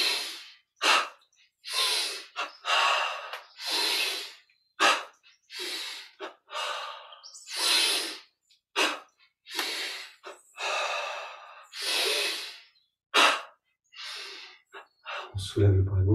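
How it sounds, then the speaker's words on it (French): Deep breaths during a yoga and meditation exercise come close to the mic in a long series of separate inhales and exhales with short pauses, loud and alone. "Inspire."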